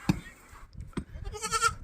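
A goat bleats a few times near a farmyard on a cotton farm, short nasal cries alongside light handling noises, fairly quiet with no talk.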